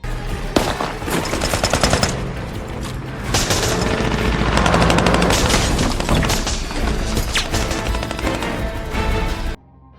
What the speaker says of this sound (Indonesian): tiba-tiba musuh datang melancarkan serangan. Baku tembak pun terjadi.